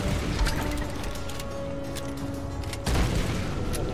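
A grenade blast in Tomb Raider lands as a sudden loud boom and crash near the end, cutting through dense, noisy combat ambience and steady droning game sound.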